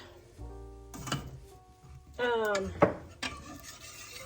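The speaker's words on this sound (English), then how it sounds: "I'm going to stir up my cornstarch so that it gets all dissolved" Spoon stirring cornstarch into milk in a pan, with scattered clinks and scrapes of metal against the pan, one bright knock near the end, and faint sounds between strokes.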